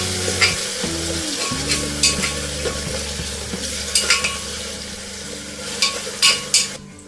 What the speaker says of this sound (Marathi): कांदा छान असा परतून घ्या तेलात